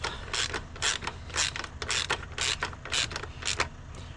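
A ratchet wrench tightens a suspension bolt on a 2011 Triumph Tiger 800XC motorcycle: about eight quick clicking ratchet strokes in a steady rhythm, close and fairly loud, with no talk.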